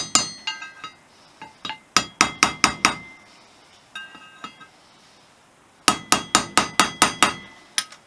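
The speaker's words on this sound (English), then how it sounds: "the reason why I cut the ends of this bar, was so that I could have a nice sharp lip on it to help tap the race down" A metal bar with a sharpened lip taps a bearing race down onto the lower yoke of a Honda XL250S on the floor, sharp ringing metallic strikes coming in quick bursts of four to six blows separated by pauses.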